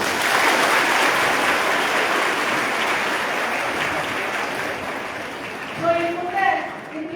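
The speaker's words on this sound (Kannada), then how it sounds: "ಚಪ್ಪಾಳೆ ಹೊಡಿಬೋದು." Students at an awareness program break into sustained applause, a dense wash of clapping that holds steady, then thins near the end as a few voices rise over it.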